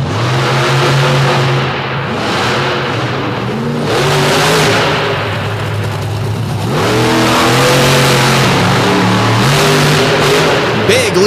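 The Monster Chassis Redneck Rampage monster truck revs hard on a dirt course at a monster truck show in DuQuoin, Illinois, its loud engine rising and falling in repeated throttle surges while an announcer talks over the roar.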